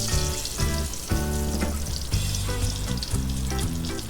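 Eggplant omelette (tortang talong) frying in a pan, a steady loud sizzle and crackle of hot oil, with a bright tonal background running underneath.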